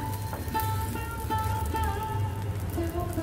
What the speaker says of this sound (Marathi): ते आपण दाबेल्या भाजून घेऊया